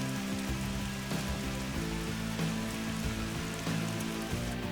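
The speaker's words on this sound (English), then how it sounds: "the rain came back with a vengeance" Heavy rain pours down on a golf course during a storm at a New Zealand tournament, a dense, steady hiss of drops hitting the ground and surfaces, loud and continuous with no voices.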